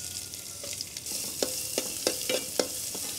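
Chopped onion fries in a pan with chili and cumin for buttermilk rasam, giving a steady close sizzle broken by several brief scraping stirs.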